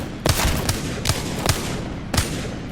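Hip-fire gunshots in the shooter game Apex Legends ring out as a few sharp, booming reports spaced irregularly over a dense, noisy game-combat background.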